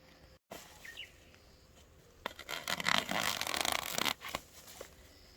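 Ordinary plastic mulch film is torn by hand off flowering peanut plants in a field, making a rough ripping and crinkling burst lasting a couple of seconds, with faint bird chirps in the background.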